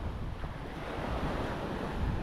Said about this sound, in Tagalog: Ang tabing dagat ng San Teodoro.